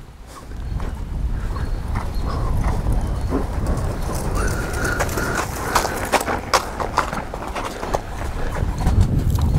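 Horse hooves clop in an uneven trotting rhythm over steady outdoor noise, with a dog whimpering and barking at moments.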